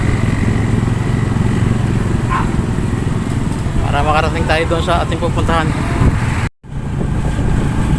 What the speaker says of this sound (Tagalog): nakasakay tayo ngayon sa sasakyan dito